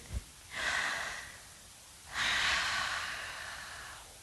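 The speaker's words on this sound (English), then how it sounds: "Feel the air as it rushes out as you exhale and blow all of that air out" Two long, breathy exhalations of air blown out during a kids' yoga breathing exercise in mountain pose, the second stronger and longer, close and alone with no talk.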